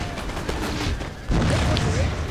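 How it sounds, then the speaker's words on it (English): Musket volleys from line infantry in the battle game Napoleon: Total War, a continuous rolling crackle of massed gunfire with booming undertones, loud and steady, a voice running over it. "now they are, and they're doing some deadly volleys"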